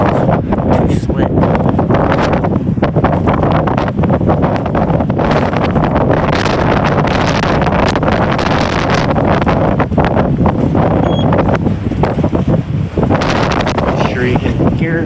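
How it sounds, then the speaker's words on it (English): Strong wind roars and buffets the microphone outdoors during a snowy blizzard in Omaha, Nebraska, a loud, constant rushing noise with gusty fluctuations throughout. "You can hear the wind."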